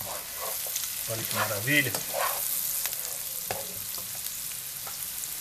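Flour is gradually stirred into banana farofa in a frying pan, producing a soft sizzle with dry scraping and rustling strokes of the spoon, while a person speaks briefly over the cooking.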